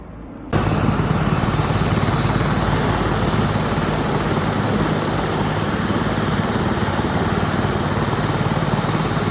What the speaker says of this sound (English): It was at this point I heard a helicopter above me.